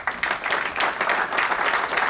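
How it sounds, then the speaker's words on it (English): A round of applause from an audience at a heart disease event, honoring men who serve in enforcement, EMS, fire or the military; steady clapping fills the whole short stretch at moderate loudness with no talk over it. "I would like to give all of these men a round of applause."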